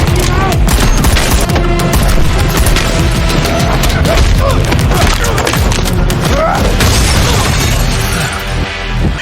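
Dense, chaotic burst of gunfire and crashing impacts in a loud action scene, continuous booms and rattling shots with a voice now and then.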